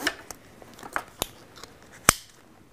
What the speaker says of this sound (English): Zip up the chest vest, apply the buckle.